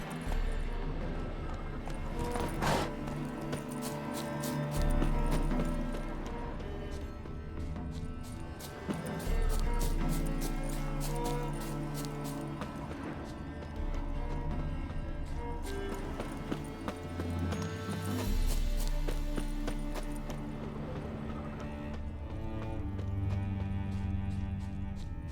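Roach, Geralt's horse in The Witcher 3 game, trots with steady clip-clopping hooves under continuous game music for the whole stretch.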